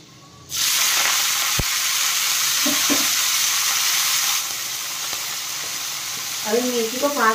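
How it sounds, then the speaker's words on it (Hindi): Fenugreek leaves hit hot oil in a kadhai with a sudden loud sizzle that hisses steadily for several seconds before easing, with a few faint clinks and a brief voice near the end. "मैंने थोड़ा सा तेल ऐड किया कढ़ाई के अंदर और मेथी को भून के निकाल लूंगी"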